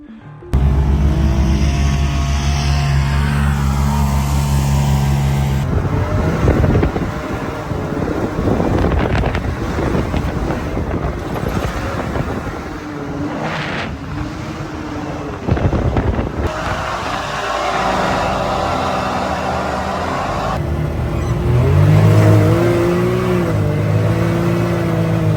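An off-road vehicle driving on a road, its engine droning and rising steadily with heavy wind buffeting, loud and continuous throughout with no talking.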